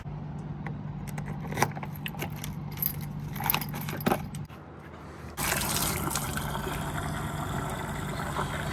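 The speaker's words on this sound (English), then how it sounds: "Ah yes, a full tank of water." Water runs into a campervan's tank from a service station tap, a steady liquid rush with jangling metallic clinks on top; the flow cuts briefly and then returns louder and broader.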